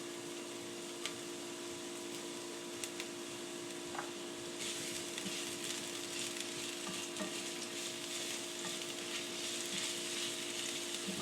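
Oil sizzling in a hot pan for tofu and broccoli cooking, a continuous quiet crackle with small pops and a faint steady hum, growing slightly brighter midway; no talking.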